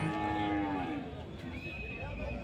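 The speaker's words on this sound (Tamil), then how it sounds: "இது ரொம்ப பெரிய சந்தை பார்த்திங்கன்னா எங்கே பார்த்தாலுமே மாடு தான் இருந்துச்சு" Cattle low and moo loudly at a huge open-air livestock fair in Anthiyur, with a long drawn-out call rising over a constant rumble of many animals and crowd noise close by.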